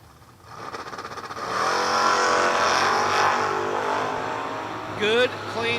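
Drag race cars, including an 84 Camaro and a 66 Chevy II, launch and accelerate down the strip with a swelling roar that holds loud for a few seconds before fading into the distance.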